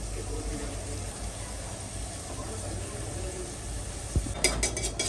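Green onion hits hot oil for paneer bhurji on a stove, giving a steady broadband sizzle throughout, with a few clinks of a utensil against the pan near the end.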